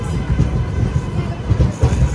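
The Nagarsol Superfast Express passenger train pulls out of Mahabubabad station, a loud continuous low rumble with rhythmic wheel clatter heard from inside the coach.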